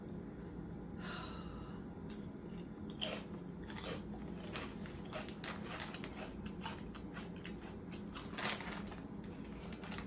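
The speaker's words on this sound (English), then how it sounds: "I will say the crunch is really nice," Close-up crunching of Lay's Baked Buffalo Chicken Sandwich potato crisps being bitten and chewed, with steady sharp crackly bites and a couple of louder crunches, no talking.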